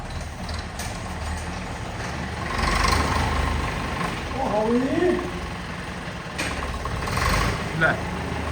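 A heavy tractor engine rumbles steadily nearby, rising and falling slightly in intensity, with people talking over it.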